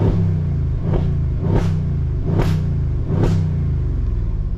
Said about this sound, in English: this car in comfort sounds already really good.